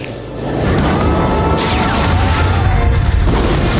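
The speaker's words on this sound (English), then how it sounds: "There's so many explosions." Action-movie explosions from Indiana Jones and the Last Crusade: a loud, sustained booming roar with crashing debris that swells early and keeps rumbling densely to the end.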